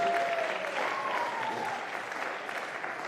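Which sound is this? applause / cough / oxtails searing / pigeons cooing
applause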